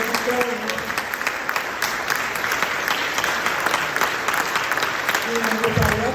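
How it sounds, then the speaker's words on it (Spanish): Continuous audience applause at a lecture hall keynote, a steady wash of many hands clapping with faint voices murmuring underneath. "me gustaría que nos pusiéramos todos de pie, a darle un aplauso muy fuerte"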